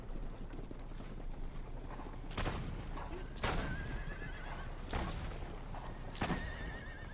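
Horses in Assassin's Creed Brotherhood whinny and neigh in several loud bursts, about four across the stretch, over a busy game backdrop with hoof clatter and mechanical clicks.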